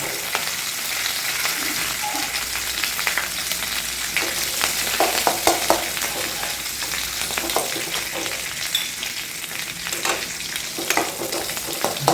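Curry leaves frying in hot oil for a Malayalam fish and mango milk curry, a steady bright crackling sizzle with scattered pops, close and continuous with no voice over it.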